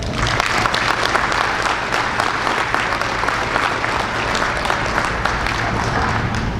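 The audience at the 2022 San Carlos Apache College commencement claps for a graduate, a steady, fairly loud spread of many hands applauding continuously with no voices over it.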